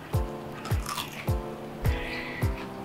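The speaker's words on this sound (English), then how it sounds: "I don't know if you could hear that crunch" Crispy keto chicken thigh skin crunching under repeated bites, five sharp crackling crunches spaced evenly and close up, each with a brief crackle tail, no talking.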